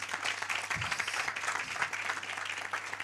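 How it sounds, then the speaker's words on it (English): An audience at a business workshop gives steady applause, many hands clapping continuously at moderate loudness with a faint low hum underneath. "Can we give him a round of applause?"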